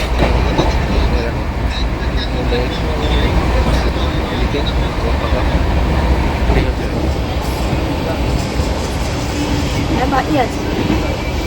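The Howrah Barmer Express running, a loud continuous rumble with rhythmic rail clatter heard from inside the coach, and voices talking faintly under the noise.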